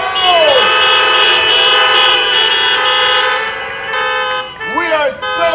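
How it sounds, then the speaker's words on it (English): Many car horns honk together in a sustained, loud chorus of overlapping tones at a high school freshmen welcome event, with a brief dip and then fresh blasts near the end. "Let's hear those horns again"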